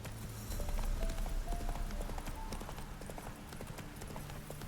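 Hooves pound in a fast, steady galloping rhythm as the horse Roach runs in The Witcher 3 video game, close and continuous with faint game sounds beneath.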